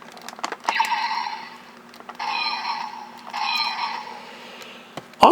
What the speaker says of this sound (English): The deluxe Jango Fett figure. He's got sound effects.